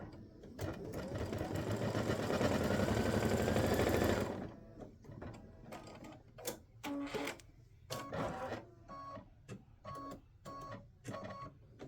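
An embroidery machine stitches a Thanksgiving turkey running back block design, its needle whirring in a loud, steady run for about four seconds before stopping. Short bursts of clicking and mechanical rattling follow at intervals.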